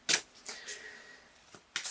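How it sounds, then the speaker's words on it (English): Tarot cards being shuffled close by in a quiet room, with a few sharp riffles and soft slides between brief pauses. "I'm just looking at these cards over here as I shuffle."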